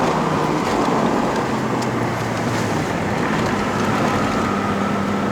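A Honda CR-Z ZF1 with a 6-speed manual gearbox climbs the road up to Genting in Malaysia, its engine a steady, loud drone under constant road and wind noise heard from inside the cabin.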